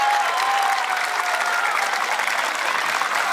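A large audience applauds the young performers at a children's folklore festival in Darda, a broad, even wash of clapping sustained throughout without speech.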